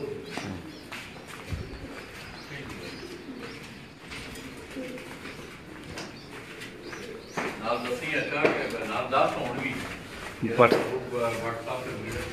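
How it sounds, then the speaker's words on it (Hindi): Breeder pigeons coo on a rooftop loft in Dinga, Gujrat district, a soft repeated cooing under steady chatter and background noise that swells toward the end. "भट्ट साहब होरां दे तुहानूं ब्रीडर कबूतर दिखा रहे हैं जी जैद भट्ट ऑफ डिंगा जी"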